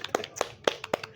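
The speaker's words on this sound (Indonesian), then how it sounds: "kasih tepuk tangan dulu untuk dua narasumber kita malam ini" An audience claps for two speakers at the close of an evening panel on the US and Israel versus Iran conflict, with several sharp, distinct claps ringing out clearly in a short, sparse burst.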